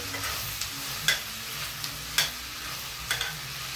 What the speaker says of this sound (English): one more stir. My onions can sweat a small bit more